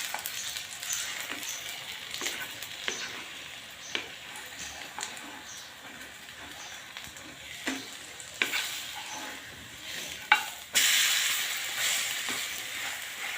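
A potato snack frying on an iron griddle, low steady sizzle with scattered crackles and scraping clicks, growing louder and brighter near the end.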